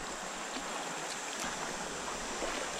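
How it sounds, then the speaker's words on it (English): Mild river rapids on the Etowah river, heard while kayaking: a steady, fairly close rush of churning water that runs without a break and without voices. "Mild Rapids"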